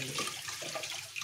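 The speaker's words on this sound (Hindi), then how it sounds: "इसको आपको केवल फ्रेश वाटर से साफ करना है" Fresh water runs steadily over an aquarium part being rinsed, a continuous close splashing gush with no pauses and no voices.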